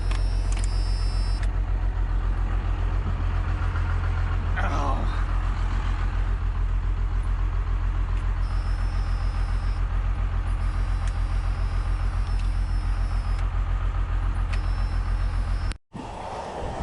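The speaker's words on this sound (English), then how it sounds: "when I tried turning the truck off, she didn't turn off" A heavy first-generation diesel truck engine idles steadily and loudly for a long stretch, refusing to shut off, with a brief cutout near the end before it rumbles on again.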